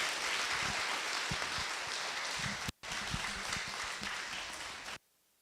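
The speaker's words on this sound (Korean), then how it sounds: "큰 박수로 맞이해 주시면 감사하겠습니다" Dense, continuous applause from a church congregation welcoming a pastor at a revival gathering, briefly cut off once before resuming and then ending abruptly.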